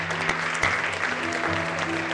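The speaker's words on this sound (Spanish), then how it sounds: "Un fuerte aplauso a nuestros niños." Church congregation applauding children during a Spanish-language service, a steady burst of clapping filling the room with a couple of sharper claps.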